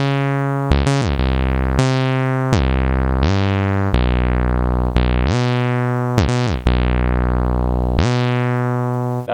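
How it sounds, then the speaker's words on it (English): A saw pluck synth bass line in Serato Studio plays a deep buzzy bass phrase, with sustained notes and quick pitch glides between them, loud and alone. "got the saw pluck synth, and this is the bass line that I got."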